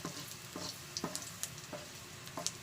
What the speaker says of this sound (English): First, we saute the garlic. Until it's golden brown.